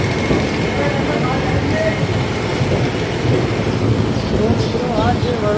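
A freight train rolls through Vadodara railway station with a loud, continuous rumble, faint squeals and short tonal chirps rising over it, and muffled voices in the background.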